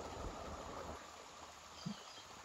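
A stream flows with a steady, fairly faint rushing wash throughout, heard alone outdoors in the countryside.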